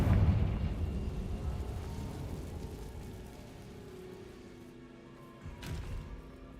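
A Confringo spell blast in Hogwarts Legacy lands as a heavy rumbling explosion that fades out over several seconds, followed by a smaller thud of debris near the end.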